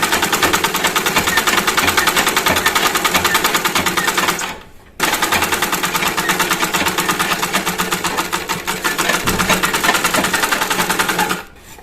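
A sewing machine stitches fabric for a three-piece outfit with a fast, even, close-up whirring chatter. It runs for about four and a half seconds, pauses briefly, then stitches on steadily until near the end.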